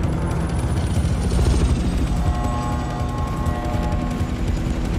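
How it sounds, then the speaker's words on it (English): Military helicopters pass overhead in the video game Battlefield 4, with a loud, steady rotor rumble and engine drone filling the whole clip, layered with busy in-game battle effects. "Helos above! Incoming! From the roof!"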